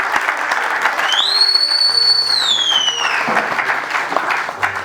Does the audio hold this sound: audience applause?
yes